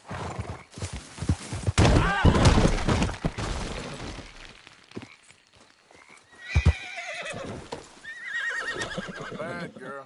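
A horse in a PS4 video game neighs and whinnies while its hooves clip-clop at a gallop, with a voice urging it on over the game sounds.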